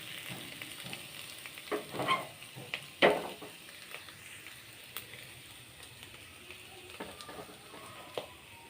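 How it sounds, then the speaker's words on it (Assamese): Hot water poured into a pan of frying egg masala curry with meat masala, setting off loud bursts of hissing sizzle and bubbling that rise sharply, then settle into a softer steady frying crackle. "এতিয়া মই গৰম পানীখিনি দি দিওঁ।"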